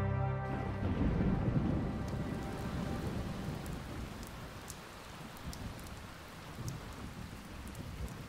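Steady, continuous rainfall soaking open salt fields, a dense, even hiss of drops on the surface with a faint low rumble, heard alone and close throughout.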